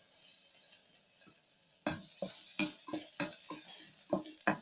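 Garlic goes into hot oil in a pan for sotanghon, a faint steady sizzle that jumps louder as it lands, followed by a series of sharp scraping and clacking strokes of a utensil stirring against the pan.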